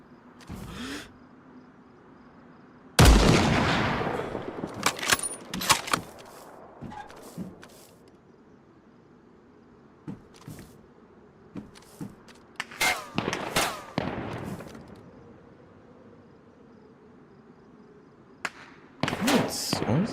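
Sharp gunshots from the survival video game DayZ crack out in scattered single shots and short bursts, with a loud opening shot and later clusters separated by quieter gaps over low background ambience.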